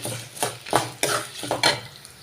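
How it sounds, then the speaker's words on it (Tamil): Spatula stirring urad dal, garlic and dried red chillies as they roast in a pan, giving several scraping strokes with faint sizzling between them, close and clear with no talk. "உளுந்து பூண்டு காஞ்ச மிளகாய் எல்லாமே நல்லா வறுத்தாச்சுங்க"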